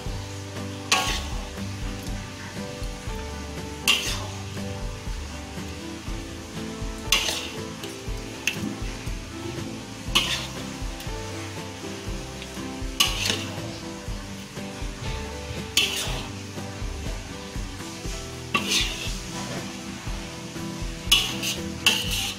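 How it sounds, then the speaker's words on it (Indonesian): Catfish, eggplant, rimbang and jengkol stirred and fried together in a balado pan: a spatula clatters against the pan in regular strokes every few seconds over a constant low sizzle. "Kita aduk semua. Goreng lele terung, rimbang, dan jengkol."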